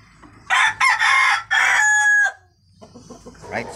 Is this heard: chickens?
yes